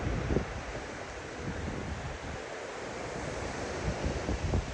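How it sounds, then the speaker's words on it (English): Strong hurricane wind roars outdoors at a home in Georgia, a steady broadband rush with buffeting gusts hitting the microphone, loud and continuous with no talking. "The wind is kicking."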